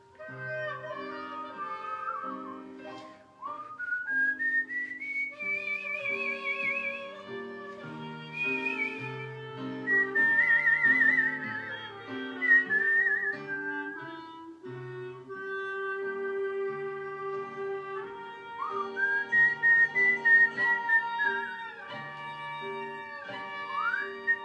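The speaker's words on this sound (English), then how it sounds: "I whistle a happy tune" A bright, melodic whistle carries a cheerful tune over soft accompanying music, rising and gliding between notes in flowing phrases with brief breaths between them.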